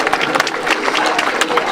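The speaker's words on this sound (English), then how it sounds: "give yourself a round of applause for coming out today." Crowd at an outdoor demonstration against the Thames Crossing in Grays applauds and cheers, a dense sustained clapping wash with scattered shouts, steady and loud throughout.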